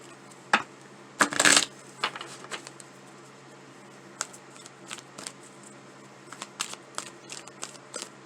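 Oracle cards being shuffled and pulled from a deck, with a dense burst of riffling flutter early on followed by scattered soft card snaps and slides, close and fairly quiet with no talking.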